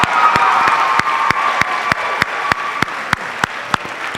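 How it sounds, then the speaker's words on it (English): An audience at a school band concert applauding, with a few sharp, evenly spaced claps standing out above the dense clapping throughout. "One more round of applause for Mr. So."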